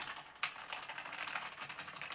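Fingers type quickly on a mechanical computer keyboard, a dense close-up stream of crisp clicky keystrokes with one sharper key hit near the start, and no voices.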